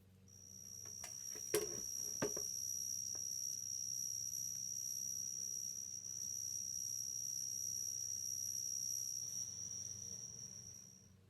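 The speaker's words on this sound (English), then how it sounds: "Here we go for the cicada." A steady, high-pitched insect drone, one long unbroken tone like a cicada, with a few faint clicks near the start.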